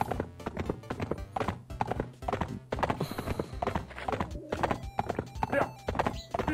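Horse hooves clip-clopping in the block-built farming game Survivalcraft 2, a steady close rhythm of hollow thuds running the whole time while someone talks over them.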